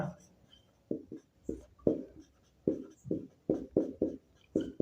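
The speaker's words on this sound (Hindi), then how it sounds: "तो मैं लिख देता हूं" Writing strokes land on a board or page in an uneven rhythm of short, close scratches as a list of organism names is jotted down during a biology lesson, with no talking over it.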